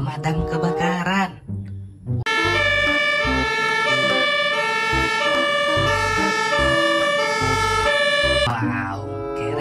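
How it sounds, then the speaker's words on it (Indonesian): A toy fire truck siren plays a steady electronic wail for several seconds, loud and close, with brief voices before and after. "mobil pemadam kebakaran"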